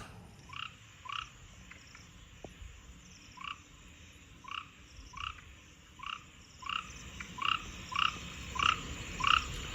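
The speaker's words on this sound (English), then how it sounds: "My children are saying they can't sleep because of the frogs." Frogs croak at night in Ghana, a regular series of short raspy calls repeating about every half second, growing gradually louder against a quiet background.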